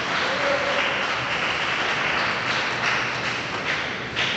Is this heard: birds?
no